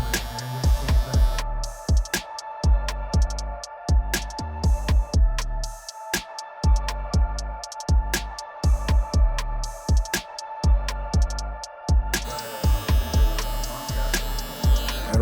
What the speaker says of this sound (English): I'm gonna take my trimmer, start off in the middle, and I'm gonna work my way over to the side